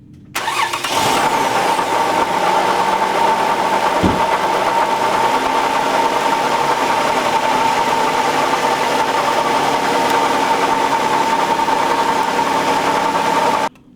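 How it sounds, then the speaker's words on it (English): A car engine, boosted by a Lokithor JP400 jump starter, cranks briefly and catches, then settles into a steady, loud idle that continues close by until it stops at the end. "you saw it started the car off with no problems whatsoever"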